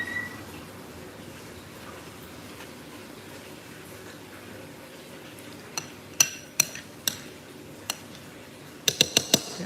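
A spoon stirs a thickening vegan cheese mixture in a pot, a low soft scraping that turns into a run of sharp clinks of utensil against the rim, some in quick clusters near the end, close and fairly quiet.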